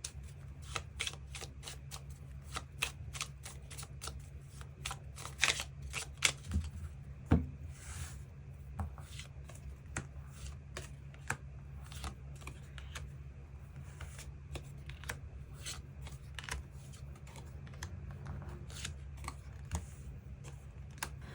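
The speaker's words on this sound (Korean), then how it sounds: "추가 카드로 일별로 월요일부터 일요일까지 어떤 하루를 보내게 될지 추가 카드 뽑아보도록 하겠습니다" Tarot cards are shuffled and drawn in a quiet room, producing a steady run of soft, close riffling flicks and taps throughout with no talking.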